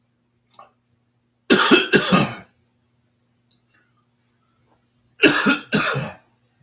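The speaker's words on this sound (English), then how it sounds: "Excuse me from coughing." A man coughing in two separate bursts, each a quick double cough, close and loud with quiet pauses between, plus a faint brief sound early on.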